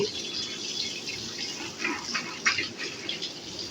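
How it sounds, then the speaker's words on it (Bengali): A kitchen tap runs straight onto poha (flattened rice) being rinsed, a steady close gush of water with splashy surges as it pours through, no talk. "আমি ডাইরেক্ট কলের নিচে কিন্তু জলটা দিয়ে দেবো দেখুন এইভাবে কিন্তু আমি ধুয়ে নেব"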